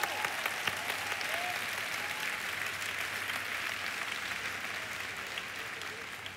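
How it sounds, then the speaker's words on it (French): An audience at a Paris festival event claps steadily in a large hall, a dense, even wash of applause that holds for the whole stretch with no voices above it. "Come on, give yourself a big hand"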